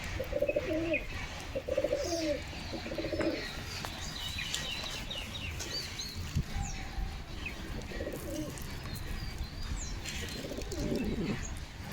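Newly hatched chicks calling toward their mother, small bird calls and cooing heard near and at moderate level amid background bird sounds, with a person speaking softly at times.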